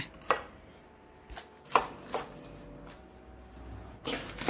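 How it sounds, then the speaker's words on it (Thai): Several crisp knife chops on a cutting board as celery and spring onion are cut into pieces, irregular and spaced apart, fairly close with a quiet background. "แล้วก็หั่นผักขึ้นช่ายหนึ่งต้น ต้นหอมอีกหนึ่งต้น หั่นเป็นท่อน"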